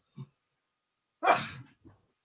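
A single person sneezes near the microphone during a quiet podcast conversation: a faint short breath, then one loud burst trailing off, followed by a soft sniff.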